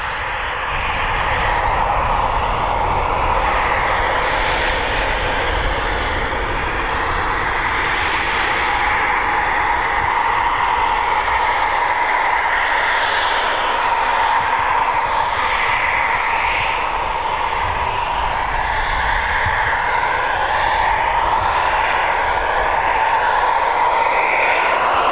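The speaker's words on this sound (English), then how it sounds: "prepare for a second Typhoon display from Flight Lieutenant Matt BrightY" A Eurofighter Typhoon jet flying a display at an RAF airshow gives a loud, steady roar of jet engine noise that holds for the whole stretch, with no speech over it.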